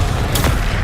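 A Confringo blasting spell goes off in Hogwarts Legacy: one sharp, loud blast with a deep rumbling body, heard up close over a dense, steady background of game noise.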